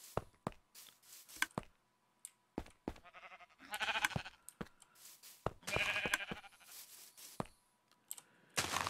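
Sheep bleat in Minecraft beside an automatic sheep shearer holding sheep of every wool color, with repeated short bleats and clicks. Two louder bleating bursts stand out among sharp tapping sounds, and nobody speaks.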